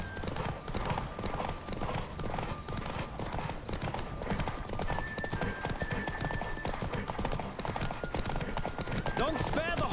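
A horse galloping in The Witcher 3 video game, with rapid rhythmic hoofbeats over continuous game ambience and music, and a voice heard in the mix.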